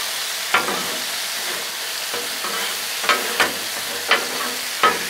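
Steak and vegetables for cheesesteak sliders sizzle steadily on a Blackstone griddle, with several sharp scraping and clacking spatula strokes breaking through as the food is stirred, close up.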